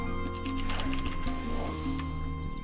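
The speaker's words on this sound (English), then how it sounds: "I keep typing it wrong." Quick clattering keystrokes on a computer keyboard during a Final Fantasy XI game session, bursts of typing under continuous game music.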